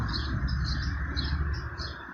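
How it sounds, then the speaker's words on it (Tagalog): Birds chirp in short repeated bursts beside a busy highway lined with trees, their calls sitting over a steady low rumble of passing traffic. "Siguro naman marinig nyo yung ingay ng ibon."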